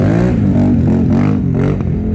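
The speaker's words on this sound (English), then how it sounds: "Christy's gonna attempt a wheelie on the 650." A 650 motorcycle revs hard as its rider tries a wheelie, a loud close engine note rising and falling through a couple of throttle blips.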